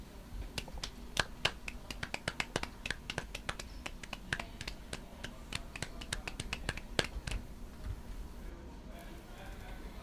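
Podcast hosts clap together to mark a colleague's 20th work anniversary at a discount bookshop, a loose run of sharp close claps with a few quick bursts over a low background hum before trailing off.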